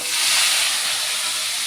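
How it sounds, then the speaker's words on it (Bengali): Eggplant frying in a pan, a dense, steady hiss of sizzling oil, close and fairly loud, with no voices. "এদিকে হচ্ছে বেগুন ভাজা"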